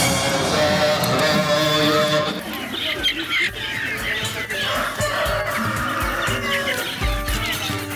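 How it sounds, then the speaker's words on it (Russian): Live chickens kept as pets cluck and squawk at a busy bird market in Isfahan, repeated clucks rising over steady crowd murmur and nearby voices. "На птичьем рынке продают и живых кур, как домашних питомцев"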